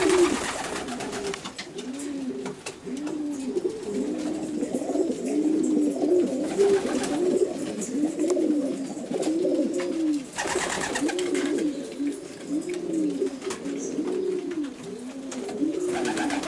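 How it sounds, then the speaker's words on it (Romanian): Racing pigeons coo in a loft, a dense chorus of overlapping rhythmic coos that keeps going throughout, close and moderately loud, with no one speaking. "aici sunt porumbei aduși de multe crescătorii"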